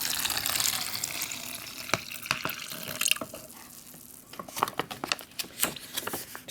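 Water, 250 ml, is poured into an MRE drink bag, giving a soft, trickling splash close by with irregular drips and gurgles, quiet and without talk.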